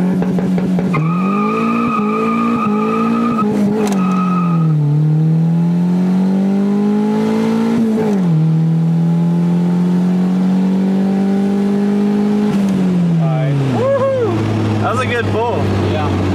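A turbocharged Acura Integra with a knocking connecting rod pulls hard from first gear, its loud engine note rising steadily before dropping at a shift and climbing again, with brief tire squeal near the end.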